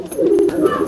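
A pigeon gives a single short, close coo at a pigeon sale, low and soft, heard alone.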